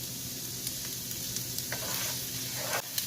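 Onion sizzles as it fries in a pan for a taco casserole, a steady close crackle broken by a few scraping stirs.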